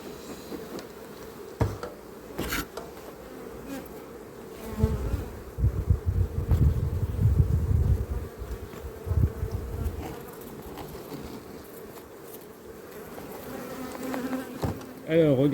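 A honeybee swarm at the hive, a continuous close buzzing hum that swells louder in the middle, with occasional knocks and handling noises around it.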